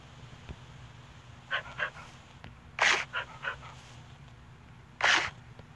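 Tamed wolf dogs in Minecraft give short breathy panting bursts and a couple of louder sharp huffs, close and clear over a quiet low hum.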